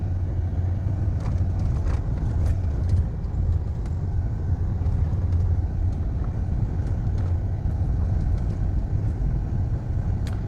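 Car driving along a rural road past cornfields, a steady close engine and road rumble with tyre noise running throughout, no talk.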